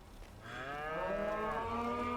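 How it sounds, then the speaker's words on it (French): Cows mooing in the farming video game Farming Simulator 22: one long, loud, drawn-out bellow that swells after a brief start and holds steady, close by, with no talking. "Une vache, ça gueule."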